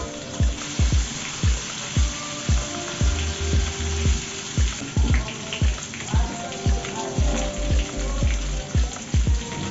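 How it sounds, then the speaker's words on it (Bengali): Sliced onion fries in hot oil in a pan with bay leaves, giving a continuous close sizzle punctuated by regular sharp pops and crackles. "হালকা আছে ভাজতে থাকবে পেঁয়াজটা।"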